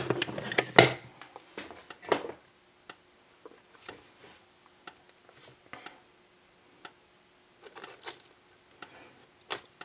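A System Sensor fire alarm pull station is yanked hard, giving a burst of loud metallic clanks and rattles, then a string of sharp clicks and faint ticks sounding alone at steady intervals after it.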